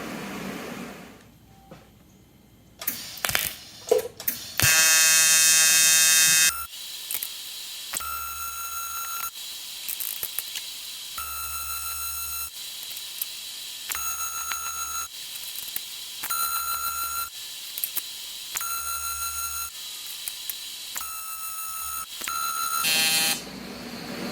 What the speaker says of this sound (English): I'll let that cool down a little bit and then weld up the other side.